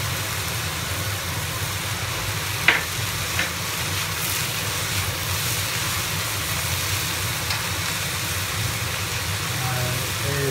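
Garlic sizzles in hot oil with shredded potatoes in a pan, a continuous close crackling fry with a single sharp scrape of stirring partway through.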